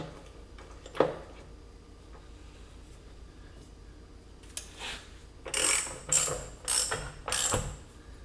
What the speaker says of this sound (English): And then tighten the bolt down here.